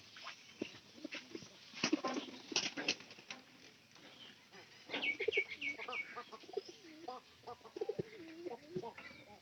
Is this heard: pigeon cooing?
yes